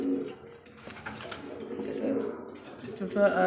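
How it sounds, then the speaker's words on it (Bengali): A male Gola pigeon coos in short throaty calls close by, with someone talking over and between them. "এই যে নর নরের ডাক দেখেন কি ডাকে নটটা"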